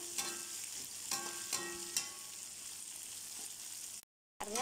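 Tomatoes sautéing for a Chettinad fish curry, with a soft continuous sizzle and several spaced scraping stirs of a spoon against the pan, close and fairly quiet, then a brief cut to silence.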